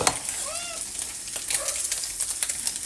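Garlic hits a hot pan and sizzles softly and steadily, with brief faint vocal sounds over the crackle.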